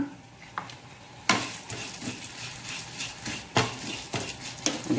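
Spices sizzling and frying in oil for pathrode, coriander seeds and cumin in the pan, with scattered stirring clinks and scrapes of a spoon against the pan over a steady soft crackle; no talk.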